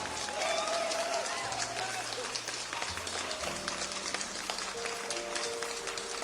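Applause on a live radio news show, a steady patter of clapping running throughout, with a voice talking over it and a few musical tones sounding underneath.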